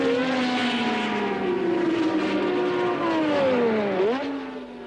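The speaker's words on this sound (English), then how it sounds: "as one back marker pulls out to pass the other, and then Dupaille makes up his mind to pass both at once" 1978 Formula 1 race cars at the Argentine Grand Prix passing back markers, loud high-revving engines whose pitch slides down as the cars sweep by, with a sharp gear change near the end.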